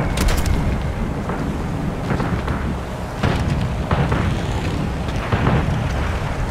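Bombs exploding in the online combat game War Thunder, a series of deep rumbling booms and blasts over continuous low roaring noise, no talk.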